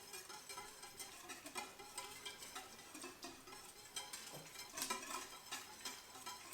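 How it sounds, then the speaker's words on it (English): Metal whisk stirring a flour mixture with onions inside an Instant Pot, a steady stream of quick scraping and clinking taps against the pot that continues without talk. "we'll use a whisk and get this going"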